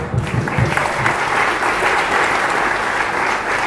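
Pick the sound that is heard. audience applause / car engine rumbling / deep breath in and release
audience applause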